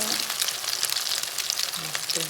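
Thai omelette with live shrimp frying in plenty of hot oil makes a loud, continuous hiss and crackle, close up, with a few faint vocal sounds underneath.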